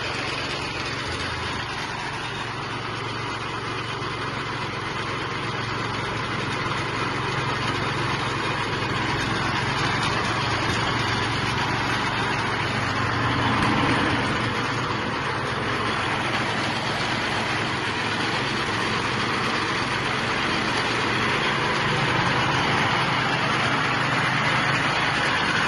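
A murta cutting machine's engine, run on kerosene or petrol, drones steadily and loudly at close range for the full stretch, a constant buzzing motor sound with only slight swells in intensity.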